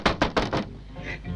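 Four firm knocks on a wooden door in a 1950 Hindi film scene, evenly spaced in a quick burst, close and fairly loud, then quiet room tone.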